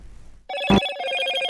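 A Motorola phone ringtone chimes, a bright sustained ringing tone with a stronger hit near the start that keeps sounding clearly to the end, with no voices.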